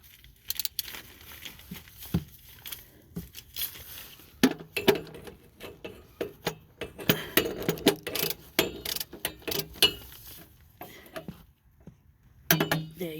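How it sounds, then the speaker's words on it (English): A torque wrench tightens an oil drain bolt during an oil change, with scattered close metallic clinks and ratcheting clicks, irregular and fairly quiet, over a faint low background hum. "So tighten the bolt by hand, then put the torque wrench on it."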